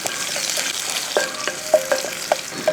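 Shallots, dried red chillies and curry leaves being stirred in a pan for a Kerala pachakari-style theeyal, a steady sizzle of frying with repeated sharp scrapes and clinks of a spoon against the pan.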